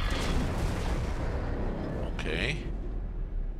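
Rumbling explosions in the X4 Foundations space game, a series of deep booms and crackling blasts that keep going under a brief spoken word.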